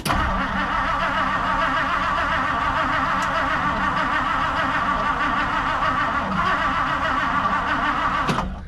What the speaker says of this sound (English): before I keep cranking on it